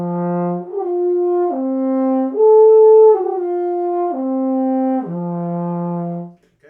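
A trumpet plays a slow lip slur exercise on the 1 and 3 valve combination, moving through eight sustained, clean tones that step up and back down, loud and close with no talk.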